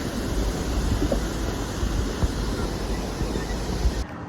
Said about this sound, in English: Big waterfall.